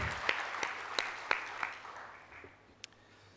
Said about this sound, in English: So can we just have a big round of applause for them?